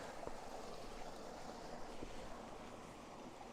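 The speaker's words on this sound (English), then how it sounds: "Where our stream begins to turn into a waterfall." A mountain stream in winter backcountry near Tamarack Lake, Desolation Wilderness, California, rushes as it begins to turn into a waterfall, giving a steady, dense roar of moving water with wind noise across the microphone and no talking.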